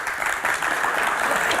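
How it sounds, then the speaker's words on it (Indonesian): An audience at an Indonesian Q&A talk show claps loudly and steadily for the panelists being introduced, a dense, continuous burst of applause with no voices standing out. "kita berikan tepuk tangan yang paling meriah untuk Kang Maman Suherman."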